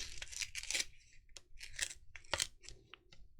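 Scissors snip through paper while cutting out a yellow frame for a primary colors craft, a quick series of close, crisp crunching cuts with brief pauses and a short rip in between.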